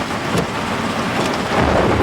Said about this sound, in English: it's just all this thunder and lightning got you nervous